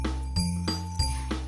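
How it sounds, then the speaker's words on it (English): Bells jingle in short shimmering bursts over a steady musical backing, shaking a few times in a row at moderate volume. "That's the sound of bells jingling."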